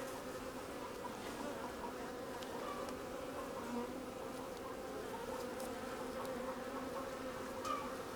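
Honeybees buzzing steadily while being installed in a hive outdoors, a dense, continuous drone of many bees at moderate level, with no speech.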